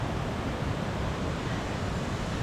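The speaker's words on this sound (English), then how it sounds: "I'm sure you can hear the water rushing by" A river rushes past an old mill site at Ballintralig, making a dense, steady roar of flowing water with no pauses, loud and close by.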